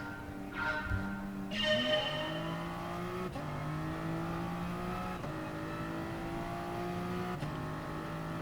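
Race cars surge off the line at the start of a GT Sport race at Dragon Trail Gardens, engines revving up loudly through the gears before settling into a steady, sustained drone.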